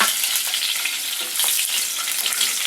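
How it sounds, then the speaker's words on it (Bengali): Whole tomatoes frying in hot oil, a dense, loud, continuous crackling sizzle heard close up and alone throughout. "এবারে গোটা টমেটোগুলো ওই তেলেই দিয়ে দিলাম।"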